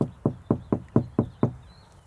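Knocking on a sound-deadened body panel of a 1991 Jeep Cherokee XJ: seven dull, damped knocks at an even pace, close and fairly quiet, each dying away quickly.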